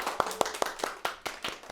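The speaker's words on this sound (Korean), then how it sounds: "자, 다 박수." A group of teachers at a training session claps in unison, seven or eight sharp, evenly spaced claps about a fifth of a second apart, close and crisp with quiet gaps between.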